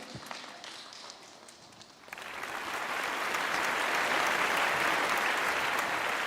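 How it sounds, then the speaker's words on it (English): Audience applause for kindergarten children after a quiz round, starting faint and swelling after two seconds into a loud, sustained wash of clapping. "can we have a big round of applause for all the children"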